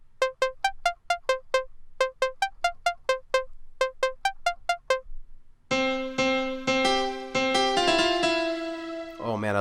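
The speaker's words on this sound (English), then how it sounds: "Oh man, I love this piano." Bright piano notes from the 808 Engine beat-making app on iPad play in clipped, repeated groups, followed by fuller sustained chords that ring out loud and close with no voices.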